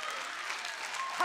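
Congregation clapping in a church service, a dense steady wash of applause sustained throughout at moderate level.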